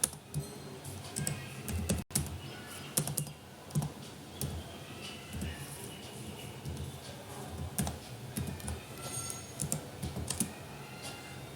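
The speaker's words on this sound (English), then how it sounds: "at the end I am typing as return false." Rapid, irregular clicking of keys on a computer keyboard goes on steadily with a brief pause, close and fairly quiet over a low room hiss.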